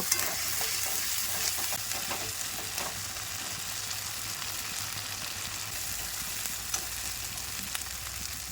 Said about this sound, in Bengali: আর এখানে বাটা মশলা আছে আদা রসুন পেঁয়াজ লঙ্কা জিরে ধনে সব কিছু ভালো করে কষে নেব